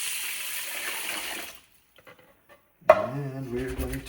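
Water gushes into a pot holding three cups of Nishiki medium-grain rice, a loud close pour lasting about a second and a half before a pause, then a metal pot clank and more sloshing.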